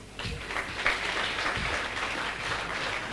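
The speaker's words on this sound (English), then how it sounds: "Can't you clap for him?" Scattered clapping from an audience at a university freshers orientation, moderate and uneven, fading in shortly after the start and carrying on steadily.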